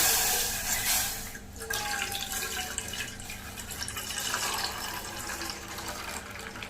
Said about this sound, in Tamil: இதில் நான் ஒரு 1/2 லிட்டர் பால் சேர்த்துக்கிறேன்